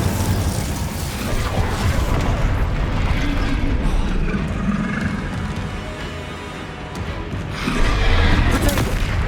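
Spell explosions and blasts in the Hogwarts Legacy game form a loud, dense, continuous roar of rumbling booms and crackling mechanical clatter for the whole stretch, with a fresh surge near the end.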